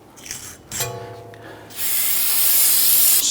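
Aerosol brake cleaner sprayed onto a rusty rear wheel hub of a 2010-2019 Ford Taurus after the old rotor is removed: a couple of short clicks and hisses, then a loud, sustained close spray.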